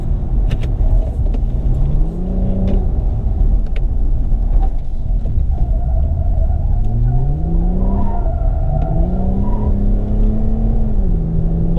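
A 2020 Toyota Avalon TRD with a V6 engine accelerating hard, the engine note climbing in pitch through several upshifts, heard close from inside the cabin with no talking.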